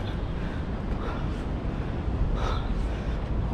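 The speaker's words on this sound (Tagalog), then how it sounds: "wala pa tayo sa kalagitnaan, hinihingal na ako guys." Close, heavy panting from a person winded on a long stair climb, with a few louder gasping breaths standing out over constant breathy rumble and some wind noise on the microphone.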